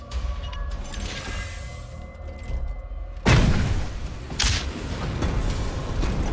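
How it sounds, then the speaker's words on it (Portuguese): In Warhammer 40,000: Chaos Gate - Daemonhunters, a smoke grenade goes off with a sudden loud burst and hissing rush partway through, a second sharp pop following, against a humming ambient battlefield backdrop. "Vamos proteger os aliados com granada de fumaça aqui"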